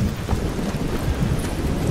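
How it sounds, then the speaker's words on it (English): Rain and low thunder in the fantasy game Skyrim: a steady rumbling wash of rainfall with a deep rolling undertone, continuous and fairly loud with no voices. "And also it's raining,"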